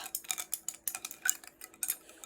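A spoon stirs powder into water, mixing it at close range with quick, rhythmic clinks and scrapes against the bowl. The strokes are steady and evenly spaced, and no one speaks.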